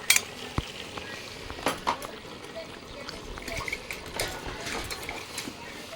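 Mutton with onion and ground spices fries in a pan, a soft sizzle broken by scraping and clinks of a spoon stirring against the metal, while someone talks.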